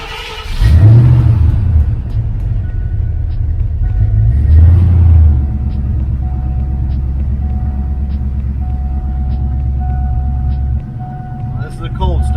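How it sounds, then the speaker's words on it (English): A car engine cold-starts with a rising whir and catch, then settles into a steady high idle with a deep, loud, continuous rumble and a brief mid-run rev, recorded close by. "we're gonna go ahead and start the car up and see what she sounds like"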